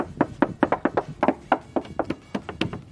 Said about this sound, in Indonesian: Lu coba ketok samping.